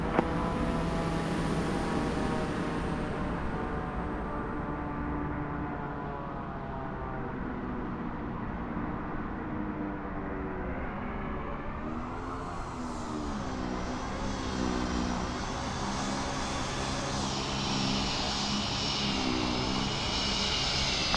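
A departing airliner's engines in a flight sim game roar and whine at close range, building steadily with rising tonal sweeps as the aircraft spools up and rolls, no talk over it.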